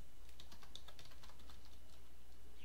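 Fingers tap a computer keyboard in a brief, rapid burst of soft clicks that trail off, heard up close against a constant background hum with no speech.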